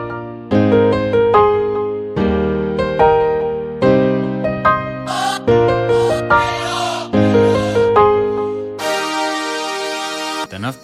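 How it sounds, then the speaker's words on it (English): Layered brass in an FL Studio beat plays as loud, sustained chord stabs in repeating phrases, then shifts into a brighter, held section near the end. No voices. "This brass is just, I layered these brasses as well."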